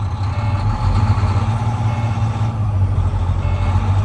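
Truck engine running steadily at 1200 RPM during an air pressure build-up test, a loud continuous low rumble that stays close and unbroken throughout, with no talk.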